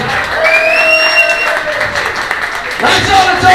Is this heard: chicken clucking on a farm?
no